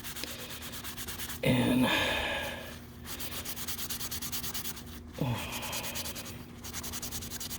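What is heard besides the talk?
wiping knife blade with alcohol to remove grime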